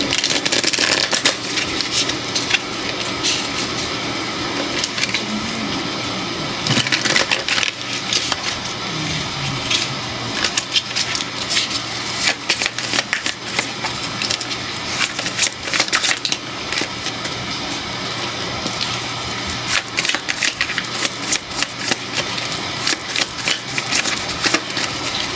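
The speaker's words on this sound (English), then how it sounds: "gonna shuffle real quick" A deck of tarot cards is shuffled close up, with repeated crisp riffles and flicking bursts broken by short pauses over a long stretch.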